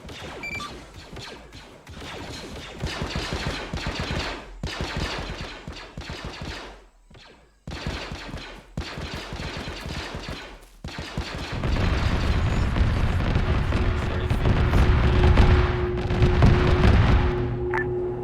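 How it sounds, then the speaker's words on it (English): Strafing-run gunfire and explosions in a military video game: steady bursts of automatic fire with brief gaps, building after the midpoint into a dense, loud roar of blasts and rumbling impacts. No one speaks. "Shadow, I'm gonna need you to strafe everything inside that blue area"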